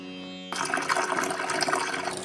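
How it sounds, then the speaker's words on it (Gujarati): Ivy gourd and potatoes get washed in clean water for a Gujarati tindora and potato dish, with a steady splashing, running-water rush close by after a brief musical lead-in. "તો હવે ટીંડોળા અને બટાકાને ચોખ્ખા પાણીથી ધોઈ નાખીશું"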